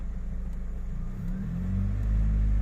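Car engine idling and then pulling slowly forward in first gear during a parallel parking manoeuvre, a close low rumble that swells slightly as it creeps ahead.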